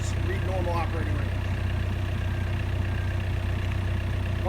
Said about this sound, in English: So right now we're at low RPM, allowing the unit to circulate engine oil to the top of the block